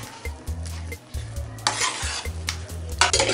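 Dal with chopped green chillies stirred in a pan for panchratna khichdi: a steady spoon scraping in repeated strokes over a soft sizzle, with a few brighter metallic clinks near the end; no talking.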